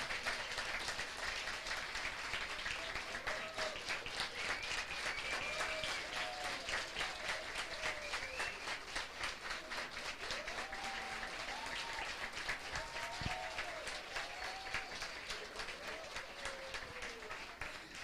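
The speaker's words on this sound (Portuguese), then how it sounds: "uma salva de palmas para a nossa equipe" Sustained audience applause at a church service during a women's congress, steady dense clapping throughout with faint voices and cheers mixed in.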